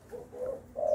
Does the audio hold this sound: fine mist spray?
no